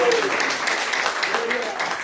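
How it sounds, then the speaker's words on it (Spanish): A church congregation applauds during a Spanish-language Sunday sermon, a steady wash of clapping that fills the short stretch at even loudness, with a voice briefly audible over it near the start. "Dale fuerte el aplauso."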